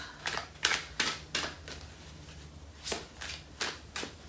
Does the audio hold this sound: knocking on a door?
no